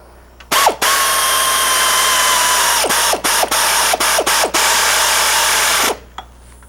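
A wrench tightens a transmission bolt with a loud, continuous mechanical whir lasting several seconds, broken by brief stutters near the end before stopping.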